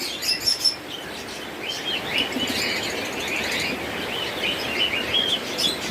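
Caged pet birds in a bird shop, such as parakeets, mynas, lovebirds, cockatiels and doves, chirp and tweet nonstop in a dense overlapping chorus, with bright high calls layered over a busy background of shop noise.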